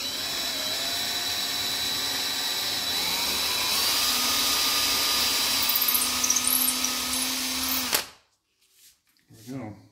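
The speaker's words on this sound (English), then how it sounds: "And we got our small drill bit here." A small drill bit bores through a pinball playfield during a prototype VUK installation, a steady whining drone that runs loud for about eight seconds and stops abruptly, followed by quiet handling sounds.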